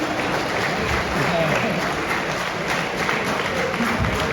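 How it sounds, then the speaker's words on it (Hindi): An auditorium audience applauds a young girl receiving a postal workshop award at Delhi University, dense steady clapping filling the whole stretch with murmured voices mixed underneath. "छोटी सी बच्ची है, इसे बहुत जोरदार तालियां होनी चाहिए।"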